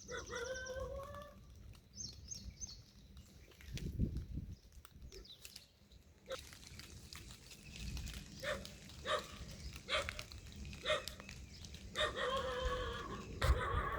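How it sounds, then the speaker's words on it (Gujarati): A black pet dog barks in short bursts toward the end, mixed with chickens clucking and a rooster crowing at some distance. "ઓલો કાળું કૂતરું રહ્યું ને એ અમે એને પાળ્યું છે"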